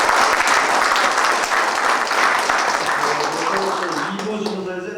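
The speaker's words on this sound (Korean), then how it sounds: "다 같이 한번 박수를." Audience claps at a commemorative student day ceremony, a dense loud round of applause that slowly thins out near the end as a voice begins speaking over it.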